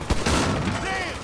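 Burst of rapid gunfire in the video game GTA 5, loud and close, rattling continuously through the whole moment with no pause.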